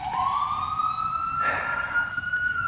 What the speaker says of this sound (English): There goes the popo or an ambulance or something.